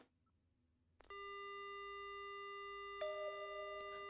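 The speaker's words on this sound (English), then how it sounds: "The only sound I hear is the dial tone." Telephone dial tone in the horror video game Death Mark: after a second of near silence, a steady, loud electronic hum begins and holds unbroken, shifting to a slightly different, fuller tone partway through.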